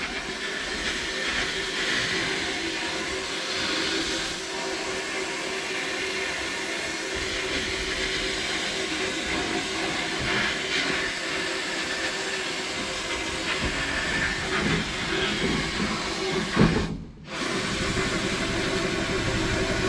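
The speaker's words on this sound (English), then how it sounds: "I'm blasting at about 100 psi." Parts being sandblasted in a sandblasting cabinet with a large 120-gallon air compressor at about 100 psi, giving a steady, loud, continuous hiss with a brief pause near the end.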